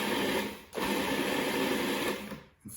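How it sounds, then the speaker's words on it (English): A food processor's motor whirs loudly as it cuts butter into an egg yolk mixture for Parmesan crackers, with a brief break in the whirr and a dip near the end. "I'll put in the butter, and I'm going to process this a little bit until it resembles a coarse meal"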